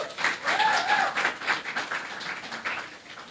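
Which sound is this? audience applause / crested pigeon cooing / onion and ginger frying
audience applause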